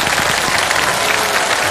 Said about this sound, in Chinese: 我们先用掌声欢送他们两位先。